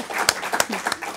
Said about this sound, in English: we will give you a two-hand applause. Two hands clapping